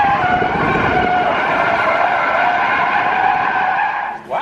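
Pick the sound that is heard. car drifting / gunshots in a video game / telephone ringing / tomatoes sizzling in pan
car drifting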